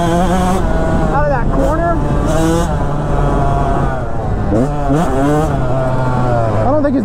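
A Yamaha YZ125X two-stroke dirt bike revs loudly over a tabletop jump, its pitch climbing and dropping through repeated throttle bursts, with excited talk running over the engine throughout.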